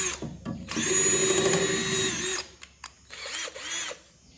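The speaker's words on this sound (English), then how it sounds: "God damn, this drill sucks." A VEVOR power drill reams through a 1960s Ski-Doo twin-track snowmobile part, whining loudly and steadily for over a second, then stopping and restarting in shorter bursts with clicks between, close up.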